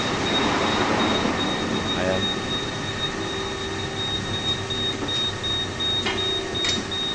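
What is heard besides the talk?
1800 US ton extruder machine running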